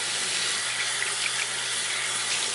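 Lukewarm tap water runs steadily from a faucet while an arm is rinsed, a continuous close splashing rush with no talk.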